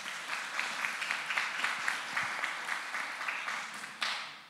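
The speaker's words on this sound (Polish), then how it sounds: "Także jeszcze raz wielkie brawa." An audience at a literary event applauds steadily for several seconds, faint and distant, in a continuous patter of clapping that rises briefly near the end.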